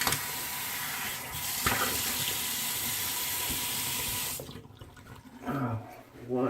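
Tap water runs steadily into a sink while someone rinses off after shaving, a close, continuous splash that stops abruptly, followed by a few quieter drips and small movements.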